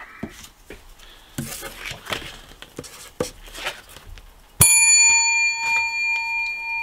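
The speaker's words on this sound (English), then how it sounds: "There'll be lots of bell ringing because we know these are all winners." A bell rings to celebrate winning lottery-style tickets: a single bright metallic ring near the end that sustains and slowly fades, after a stretch of soft tapping and handling noises with no speech.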